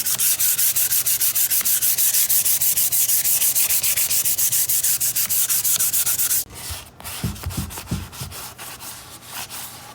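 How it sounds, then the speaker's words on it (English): An old, worn 220-grit sheet lightly sanding green-painted thrifted furniture: fast, even back-and-forth rubbing strokes for about six seconds, then a brief pause and a few slower, scattered strokes, loud and close. "We're just gonna go really light over this with an old used 220 grit piece of sandpaper"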